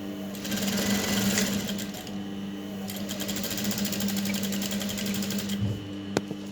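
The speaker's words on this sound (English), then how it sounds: "So she's going to start sewing it up now." A sewing machine stitches an aso oke head tie, its needle hammering in a fast, even, loud run that pauses briefly around the second mark before continuing, ending with a small knock.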